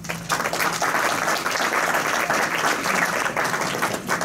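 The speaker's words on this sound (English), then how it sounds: "Oh, that gets a lot more applause than the jokes" Members at a Hickory Rotary Club meeting applaud, a brief, even round of clapping from a room-sized audience.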